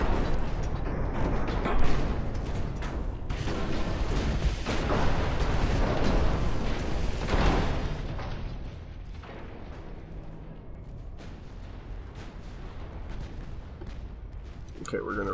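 Heavy naval gunfire from warships in Ultimate Admiral Dreadnoughts, deep booming salvos layered into a continuous rumble that thins out toward the end, leaving sparser distant blasts.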